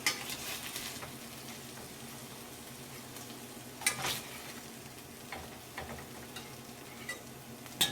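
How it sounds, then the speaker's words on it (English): Salmon pieces sizzle in a frying pan, a steady low crackle with occasional sharper ticks and clatters as pieces are moved, heard alone with no talk. "Let's go ahead and get these out of the pan."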